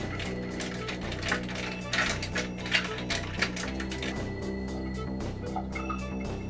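Soda stirred in a glass with ice and coconut cream, giving rattling, ratchet-like clinks and scrapes that come and go over a steady tonal backdrop for several seconds.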